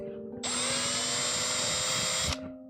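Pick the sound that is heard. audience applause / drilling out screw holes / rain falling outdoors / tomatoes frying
drilling out screw holes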